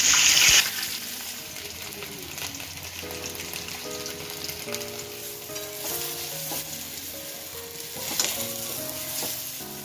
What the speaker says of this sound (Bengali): এবার এই মশলাটা দিয়েই পিঠেগুলো ভেজে নেব।